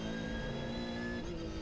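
An Aston Martin Vantage V12 GT3 race car engine drones steadily from onboard at the Nordschleife 24-hour race, a continuous fairly quiet roar with no talk.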